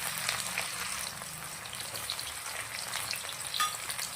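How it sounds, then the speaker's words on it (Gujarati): Chopped onion frying in hot oil with dried chilies, cardamom, cinnamon and garlic makes a soft, steady sizzle with light crackles throughout, fairly quiet and with no talk. "ડુંગળીને તેલના અંદર સરસ સંતરાવા દેશું."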